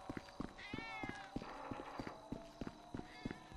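A cat meows in GTA V, short rising-and-falling cries near the start and end of the clip, over rhythmic clip-clop footstep thuds and a steady game background hum.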